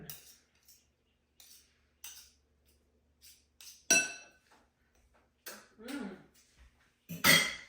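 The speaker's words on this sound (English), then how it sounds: "Let's spread it with a spoon" A spoon scrapes and clinks against a dish while spreading cookie dough layer over brownie batter, in short intermittent bursts of scraping and tapping, close and fairly quiet with gaps of near silence between strokes.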